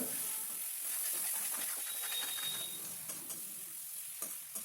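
Gongura leaves and potato fry in a pan with a steady, faint hiss and sizzle, broken by occasional soft stirring scrapes toward the end.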